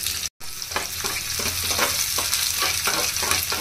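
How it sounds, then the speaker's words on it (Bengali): Chopped onion and garlic fry in hot oil over medium heat for a raw mango sour dal tempering, with a close, busy sizzle and rhythmic stirring scrapes after a brief cut at the start. "চুলার তাপটা মিডিয়াম আঁচে রেখে পেঁয়াজগুলো হালকা করে ভেজে নিব।"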